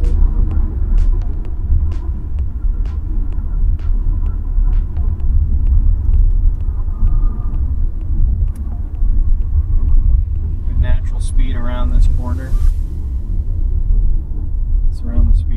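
A Tesla merges onto a freeway, heard from inside as a steady low road rumble and tyre noise, with a few clicks and a brief faint chime near the end.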